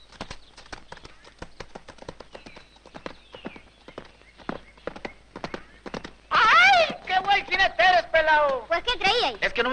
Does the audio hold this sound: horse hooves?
yes